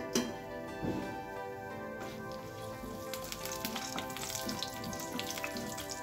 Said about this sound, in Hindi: घी हमारा गर्म हो चुका है और जो हमने खड़े मसाले लिए थे वो इसमें हम डाल देंगे।